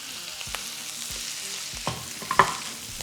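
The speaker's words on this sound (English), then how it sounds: "And now we're just going to add our minced garlic and chipotle, along with the Roma tomato," Ground meat fries with minced garlic, chipotle, Roma tomato, onion and jalapeno in a pan, a low close sizzle marked by a few spoon scrapes and one sharper clink, without any voices.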